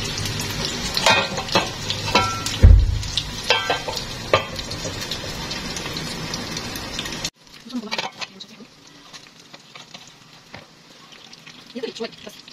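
A burger patty fries in a pan with cheese melting on top, giving a steady crackling sizzle with scattered pops and a brief loud knock. The sizzle becomes muffled and quieter partway through. A person talks over it.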